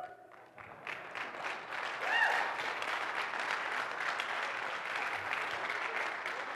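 A church congregation claps, rising from scattered hand claps into sustained, fairly even applause from a crowd at moderate distance.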